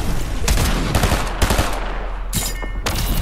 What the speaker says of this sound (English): He heard those shots.